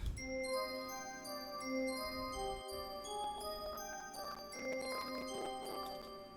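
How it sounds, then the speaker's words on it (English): A soft synthesized bell pad plays a simple repeating pattern of sustained chiming tones, quiet and steady, with no voices. "I found this kind of a bell pad sound"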